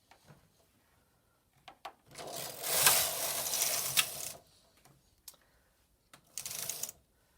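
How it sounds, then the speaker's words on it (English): A Silver Reed punchcard knitting machine carriage is pushed across one row, a loud rasping mechanical sweep lasting about two seconds with a shorter pass near the end and light clicks between, no talking. "I cannot do this on the carriage side, so I have to knit 1 row across"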